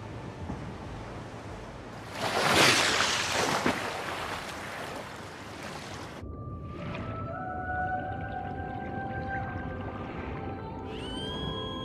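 An underwater dolphin whistles and clicks, with rising and falling tonal whistles in the second half following a burst of rushing water noise, all fairly close and clear with no speech.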